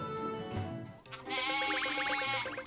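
Sheep bleat repeatedly in the Fantasy Life i video game ranch scene, a string of wavering, nasal bleats that start after a brief pause, loud and close over game music.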